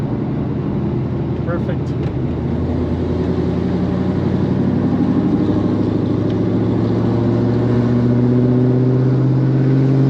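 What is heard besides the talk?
car driving past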